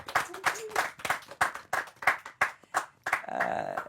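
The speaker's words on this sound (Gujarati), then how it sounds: "એક વખત જોરદાર તાળીઓ લાલો ફિલ્મના અદ્ભુત કલાકારો" An audience applauding the cast of the Gujarati film Laalo, a run of loud, separate claps in an uneven rhythm close by, followed by a short burst of voices.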